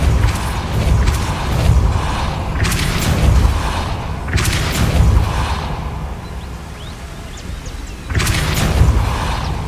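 A Depulso force spell in Hogwarts Legacy fires as a series of booming whooshes and heavy thuds, each hitting hard and then fading, with game mechanisms rumbling underneath and no voices.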